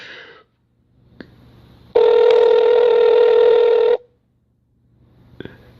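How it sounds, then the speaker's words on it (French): A telephone rings once with a loud, steady electronic tone lasting about two seconds, with quiet gaps before and after and faint clicks around it. "Oui, Faustin, tu peux décrocher déjà"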